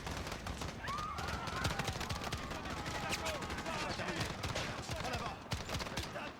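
Dense automatic gunfire rattles without pause through a Call of Duty Modern Warfare battle scene, loud and continuous, with a voice calling out briefly over the shooting.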